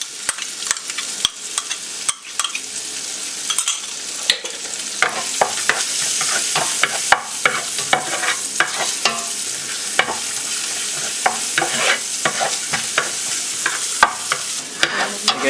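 Garlic sizzling as it sautés with onion in a pot that still holds pansit Malabon seafood noodle residue, a steady crackling fry broken by frequent spoon stirs and scrapes, close and continuous with no talk.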